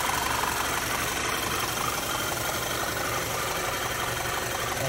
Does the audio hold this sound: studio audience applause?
no